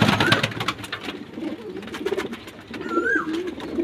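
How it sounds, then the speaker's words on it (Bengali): A domestic pigeon held in the hand coos softly in two short rising calls, close by, over a busy backdrop of rustling and faint background chatter. "ভাই নিজে হাতে পায়রা ধরে হাতে দিচ্ছে।"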